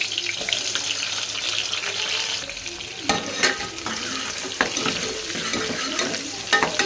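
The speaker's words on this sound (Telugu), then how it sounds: "ఇది గోల్డెన్ కలర్లో వచ్చే వరకు ఫ్రై చేసుకోవాలండి." Chopped onions frying in well-heated oil until golden for a stuffed brinjal curry, a steady, close hiss of sizzling with scattered scraping stir clicks and no talk.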